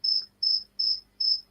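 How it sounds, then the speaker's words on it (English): A single cricket chirps indoors in a studio building, four evenly spaced bright trills repeating about every 0.4 seconds, clear and close against a quiet room with no talking. "I hear a cricket. I don't know if we have a cricket in the studio"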